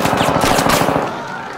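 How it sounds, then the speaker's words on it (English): A rapid burst of machine-gun fire as a sound effect, bullets striking a floor in a quick rattling volley, loud and close, then trailing off into a fading echo. "Bullets pierce the floor in a semicircular pattern around the bust."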